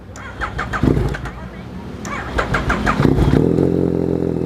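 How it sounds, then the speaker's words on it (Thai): A 2018 Yamaha MT09 motorcycle fitted with an SC Project slip-on exhaust cranks and fires up, then settles into a deep, loud, steady idle rumble, with someone talking over the starter cranking. "คันนี้มาพร้อมท่อแต่งทรง SC Project เป็นแบบสลิปออนฟังเสียงท่อคันนี้กัน"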